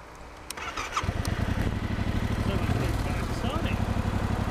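A Yamaha Tracer 7 motorcycle cranks and fires up, then settles into a loud, even, pulsing idle close by, with a voice speaking briefly at the start.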